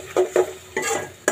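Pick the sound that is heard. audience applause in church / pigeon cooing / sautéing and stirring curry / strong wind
sautéing and stirring curry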